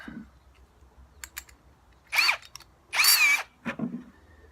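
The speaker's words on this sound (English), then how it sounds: "we're going to drill some vent holes so that the roots can feed themselves" A power drill whirs in two short bursts, boring vent holes into a plastic bucket, with clicks and handling noises between them.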